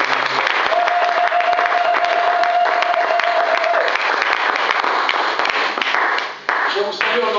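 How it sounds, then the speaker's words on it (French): A church congregation breaks into sustained loud applause and cheering after a prayer, dense clapping filling the room with voices calling out over it and a steady tone ringing underneath. "Est-ce qu'on peut acclamer très fort?"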